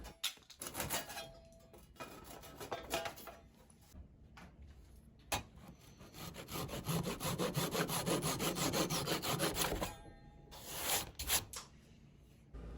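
A hand saw cuts through wood boards for the ends of a farmhouse trestle table, with rapid rasping strokes in two main bouts, close and fairly quiet, separated by short pauses and clicks.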